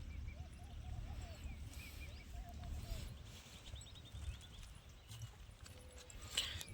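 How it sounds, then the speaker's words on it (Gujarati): A horse's hooves clip-clop in a faint, steady rhythm at a distance, with birds chirping in the background. "હવે જઈએ સિલ્વર ઘોડો લઈને"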